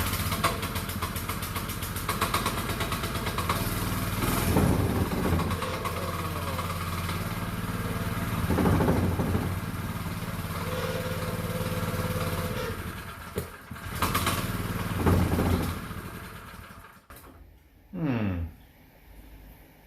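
A small engine running on choke, its rough low idle steady for most of the stretch with a few louder surges, then cutting out near the end; a voice speaks over it at times.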